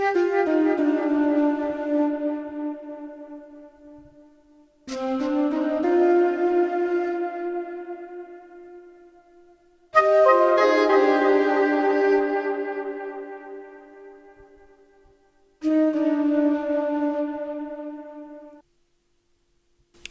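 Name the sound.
flute (Sonatine Orchestra) and saxophone (Sax Lab) layered with delay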